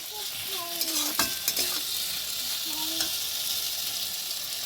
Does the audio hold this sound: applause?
no